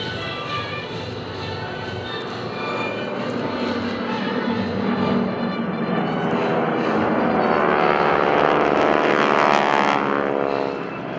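Blue Angels jets pass at an airshow, a loud, sustained roar that builds and sweeps with a rising whoosh as the aircraft draw closer, with a commentator's voice partly beneath it.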